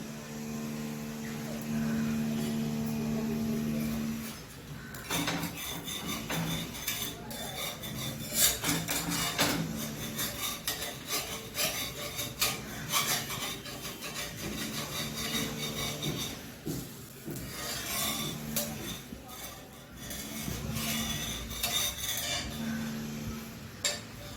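A spatula scrapes and rasps against the pan while a rava dosa is flipped and turned, coming in irregular bursts of metallic scraping over a low hum, with no talking.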